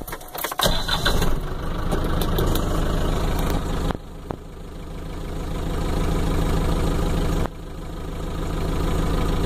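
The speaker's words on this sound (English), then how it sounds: "So let me go ahead and start the truck." A truck engine cranks and catches, then settles into a loud, steady idle that swells slightly over several seconds, with a couple of abrupt shifts.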